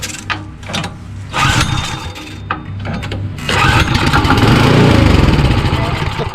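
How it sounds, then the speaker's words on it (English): An Ariens Sno-Tek 24-inch dual-stage snowblower engine is pulled over a few times, sputters, then catches and runs with a loud, steady close-up roar. "Everything seems to work and engine runs."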